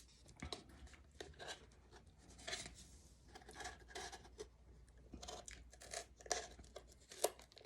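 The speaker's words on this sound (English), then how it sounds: "you take a small pair of scissors and you bend these out and then cut them off" A small, not very sharp pair of scissors snipping and bending tabs on a 20 oz paper coffee cup, giving quiet, close, irregular crisp cuts and rasping paper scrapes in bursts with short pauses.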